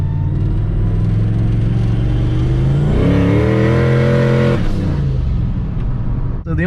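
A turbocharged car on Nitto 555 R2 drag radials with a 10 lb wastegate spring, engine held at a loud steady drone then revved higher to build boost, pitch climbing before settling back down.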